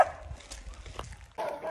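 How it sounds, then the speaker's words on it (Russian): A pet dog gives a few muffled barks and yips outdoors on a walk, mixed with rustling and background noise. "С нами верный пес Джесси"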